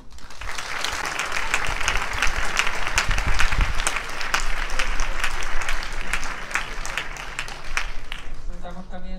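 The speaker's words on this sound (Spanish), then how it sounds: "podéis recibir con un grandísimo aplauso a Mathieu Vadepied y Omar Sy" A large crowd at the Barcelona film festival BCN Film Fest applauds steadily and loudly for several seconds, dense clapping filling the room with occasional louder individual claps.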